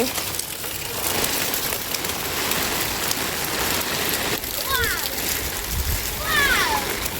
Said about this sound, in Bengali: পানি বালতিতেও যাচ্ছে, পানি এদিকেও আসছে, ওদিকেও যাচ্ছে। আমার এক বালতি বৃষ্টির পানি হয়ে গেল